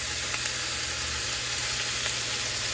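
Chicken pieces for a honey garlic chicken spread in a single layer in a pan, giving a steady, close, even sizzle that holds without a break and with no talking.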